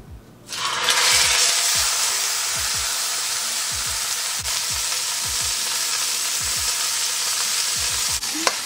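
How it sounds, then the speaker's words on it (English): Meat browns in hot oil in a pan, a loud steady sizzle and hiss that holds for several seconds, with faint spatula scrapes and stirring thumps underneath, no voices. "While I have that in the pan sizzling,"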